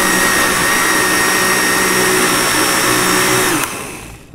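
Steady high-pitched whir of a kitchen blender mixing a flour batter for chicken pie, loud and close, then winding down near the end.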